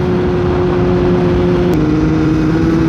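Kawasaki ZX10-R motorcycle engine droning at steady revs, then dipping slightly in pitch as the quick shifter snaps through a gear change with barely a break in the sound, loud and close.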